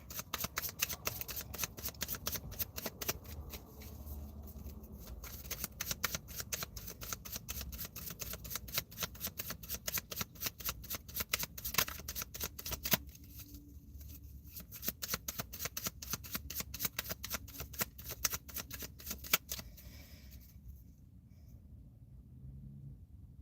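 A tarot deck is shuffled over and over in a close, steady run of crisp papery riffles and taps that lasts about twenty seconds before fading to near quiet.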